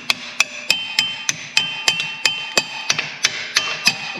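A hammer taps a control arm bolt through its mount during a Jeep lift kit install in a home garage: about thirteen sharp metallic strikes at a steady, fairly quick rhythm, close and clear with no talking.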